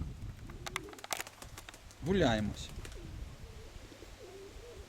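Pigeons cooing near a person with a hawk, a low, throaty coo standing out clearly in the middle, among scattered ambient sounds, with a person speaking briefly.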